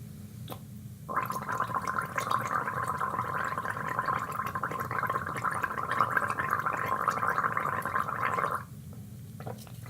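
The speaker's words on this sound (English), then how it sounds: "gargle the water without any tone" Someone gargles water with no voiced tone, a continuous bubbling rattle lasting several seconds, close and moderately loud, starting and stopping abruptly.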